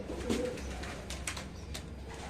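Low, soft cooing of racing pigeons close by in a loft, a murmuring coo early on over a steady background hum with faint rustling.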